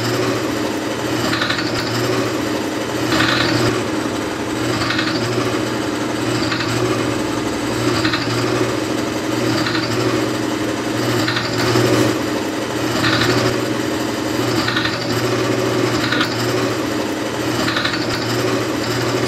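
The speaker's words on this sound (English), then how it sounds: "Let's start pumping." A pump is worked steadily by hand, a grinding, rasping mechanical stroke repeating roughly every one and a half seconds over a constant loud hum, with no talking.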